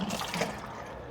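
Water is poured onto the soil of a potted English elm tree: a brief, close, splashing trickle lasting about a second, with no voices.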